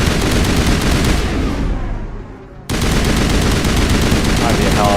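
Loud, rapid automatic gunfire in the Mass Effect video game fires at a target in sustained bursts, with a brief lull before the shooting resumes.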